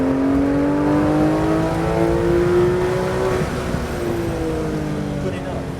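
A Porsche GT3 RS on a race track accelerating, its engine note climbing steadily in pitch under a continuous roar, heard from inside the car with wind and road noise.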